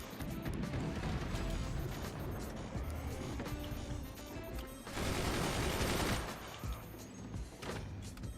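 Dense machine gun fire from the Forts real-time strategy game, a continuous clatter of rapid shots with a louder burst midway, steady and close throughout.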